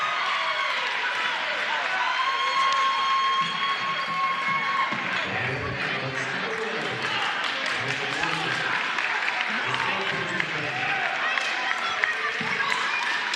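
A crowd at a men's junior college basketball game in Oklahoma murmurs and reacts in a large arena, a broad continuous roar with scattered claps and cheers under a commentator's voice.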